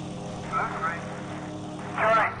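Propeller engines of World War II warplanes in the combat flight game IL-2 Sturmovik drone steadily underneath, fairly faint, while someone talks over them with two brief radio-like bursts.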